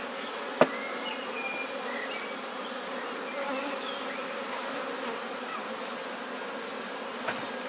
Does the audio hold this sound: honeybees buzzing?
yes